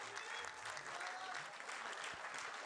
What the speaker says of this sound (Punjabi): ਇੱਕ ਵਾਰੀ ਸਾਰੇ ਖੁੱਲ੍ਹ ਕੇ ਜ਼ਰੂਰ ਤਾੜੀ ਮਾਰ